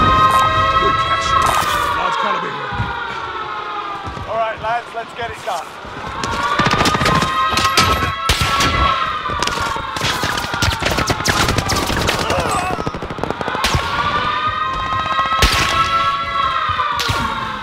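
Gunfire in the Warzone video game during a nuke event on a new map, with dense bursts of shots and crashes layered over a rising and falling siren wail, steady and loud throughout, with voices mixed in.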